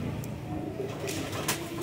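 A pair-ready female home-bred pigeon making a short, soft cooing call, faint and close, against quiet background with a couple of brief rustles.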